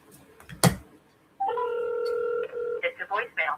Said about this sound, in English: Let me call this person